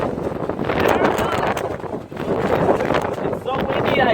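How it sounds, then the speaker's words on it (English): A strong windstorm buffets the microphone with a heavy, gusting roar that rises and falls throughout, and a voice talks over it. "It's so windy I taste dirt in my mouth."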